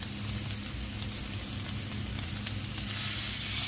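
Salmon fillet sizzling in a pan with only a little oil, heading toward brown butter with lemon; a steady, close frying hiss that swells brighter near the end, with one small pop and no voices.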